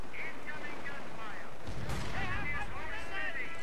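Sniper rifle shots in the Company of Heroes strategy game, with a sharp, loud report rising out of a dense, rumbling battlefield din.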